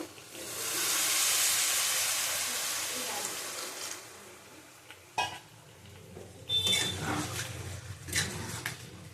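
Water poured into hot oil and cooked-down spices for a potato and katla fish curry sets off a loud hissing sizzle that swells, then fades into quieter bubbling with clinks of utensils against the pot.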